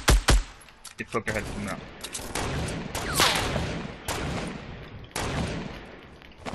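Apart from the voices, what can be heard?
gunfire from the video game Fortnite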